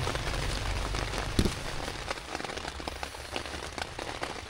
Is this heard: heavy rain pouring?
yes